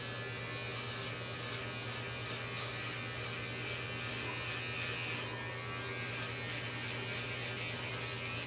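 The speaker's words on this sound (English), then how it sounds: "Let's shave, let's just take these trimmers to it." An electric beard trimmer shaves neck hair, a steady faint buzzing hum that runs continuously close by, with no talking over it.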